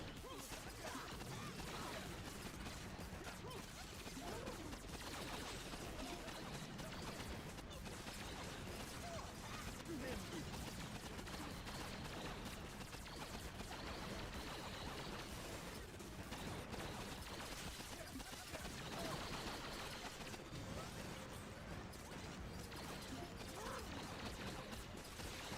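Sustained rattling mechanical gunfire and clanking machinery from a machine gun and shock launcher during a Cryo Crab boss fight in a video game, dense and continuous throughout with no pauses.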